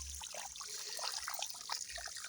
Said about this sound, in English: This is now how we do the watering, proper watering.